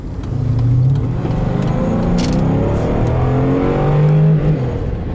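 Mercedes-Benz W140 S500 V8 idling up close after start, a loud steady low rumble with slight swells in revs as the transmission drops into gear.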